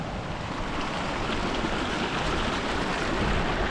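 Fast, clear river water of the Siran in the Mansehra valley rushes steadily, a dense continuous roar of flowing current that fills the whole moment with no voices.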